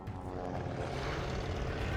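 Propeller aircraft droning steadily overhead in the World War II shooter Call of Duty Vanguard, a continuous loud engine hum filling the scene without pause.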